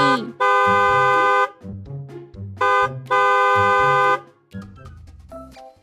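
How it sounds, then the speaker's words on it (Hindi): Loud car horn blasts sound in a rhythm of short and long honks, with quieter clattering noises in between. "चंपक गुस्से में हॉर्न बजाने लगा"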